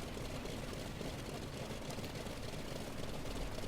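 An F4U-1A Corsair radial engine idling at 1,000 RPM in FSX gives off a steady, loud, rough drone with a rumbling low end that stays even and unbroken throughout, with no talk.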